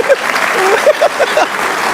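A crowd of Pakistani cricket fans after an India vs Pakistan match claps in a steady patter of applause, loud and close, with a voice speaking over it at times.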